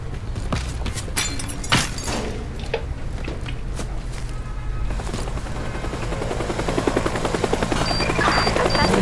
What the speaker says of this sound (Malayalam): Helicopter helicopter.